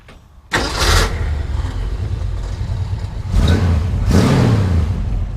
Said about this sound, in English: that is my favorite part, the rev on this car and the dual exhaust